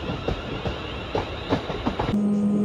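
A train on the Abbey Line between Watford Junction and St Albans Abbey runs over jointed track, giving a loud, regular clickety-clack of wheels hitting rail joints over a steady rumble, ending in a sustained tone.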